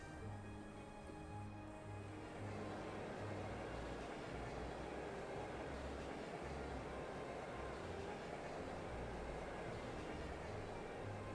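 A train rolls along rails in the video game Trails of Cold Steel, a steady low rumble with a faint droning hum, held evenly throughout with no voices.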